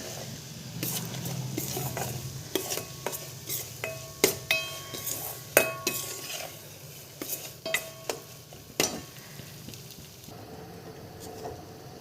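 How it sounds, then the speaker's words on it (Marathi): A spoon stirs and scrapes semolina and coconut pieces roasting in a pan for a sweet kheer, with soft sizzling and a run of sharp metallic clinks and scrapes close by. "तर खमंग होईस तर आपण हे भाजून घेऊया."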